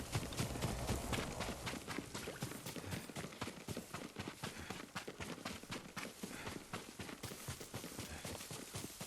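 Rapid, continuous hoofbeats of a horse on the move in the video game Ghost of Tsushima, a busy clattering rhythm that stays steady throughout with no voices.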